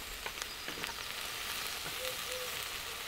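Cooked sliced new potatoes frying with onions in a pan, a close steady sizzle with scattered crackles and a few soft stirring scrapes, no talking.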